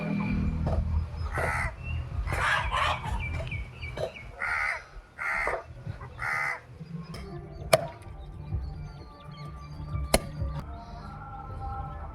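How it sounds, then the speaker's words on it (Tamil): Crows caw repeatedly in a rural yard, a burst of loud harsh caws in the first half followed by scattered sharp knocks and fainter calls against outdoor background noise. "ஜிம்மி காக்காயெல்லாம் முடுக்கு"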